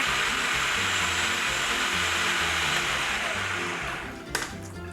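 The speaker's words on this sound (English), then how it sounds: "Okay, the strawberries are in the food processor. Close it, turn it on." Food processor motor whirring loudly and steadily while pureeing strawberries, a continuous high-pitched drone that winds down near the end, followed by a brief clatter.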